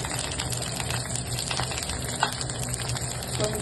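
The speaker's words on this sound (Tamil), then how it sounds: "அடுத்தது நம்ம பச்சை மிளகாய் ஒரு வதக்குறோம்" Green chillies sautéed in a pan after onions, giving a continuous close sizzling hiss with a few small crackles, steady and moderately loud throughout.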